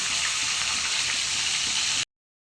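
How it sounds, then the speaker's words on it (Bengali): Fish frying in hot oil, a steady close-up sizzle and crackle that runs loud and unbroken, then cuts to silence just before the end. "তেল গরম অবস্থায় মাছটা ভাজলে কিন্তু ভালো করে ভাজা যায়"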